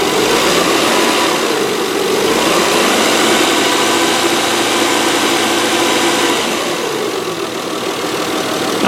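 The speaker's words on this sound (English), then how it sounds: "Let me try hitting the throttle and see if the sound comes back a little bit." Car engine with a bad pulley bearing revving under throttle, a steady loud mechanical roar with broadband whine holding for several seconds and easing slightly near the end.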